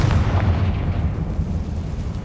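Bombarda and Confringo spells explode in Hogwarts Legacy, a loud, close, rumbling blast with heavy low-end that decays slowly across the clip.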